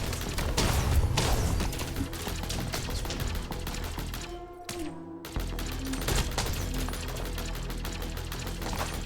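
Rapid bursts of missile fire from a top-down Risk of Rain style game, a dense rattling barrage that runs almost without pause, cutting out briefly in the middle before resuming just as busy over layered game sounds.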